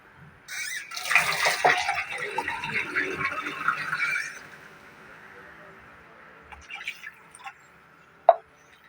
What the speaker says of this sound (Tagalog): Gatangan og tubig.